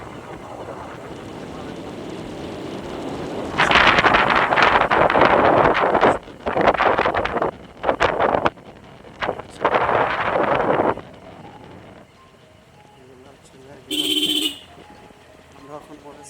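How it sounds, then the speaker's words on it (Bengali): Wind roars across the microphone on a motorcycle ride along a village road, loud buffeting gusts in several bursts that cut in and out, with a brief horn-like toot near the end. "আমরা এখন মোটর সাইকেলে আছি"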